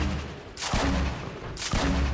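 Two loud, booming shots from a Fortnite video game weapon, spaced about a second apart, each with a sharp attack and a lingering tail over a steady game background.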